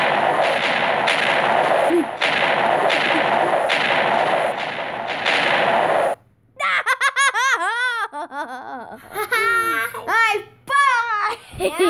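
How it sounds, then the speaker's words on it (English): Masses of TNT blocks detonate in a blocky building game, a loud rolling string of blasts for about six seconds, followed by excited laughter and squealing voices. "Time to explode it."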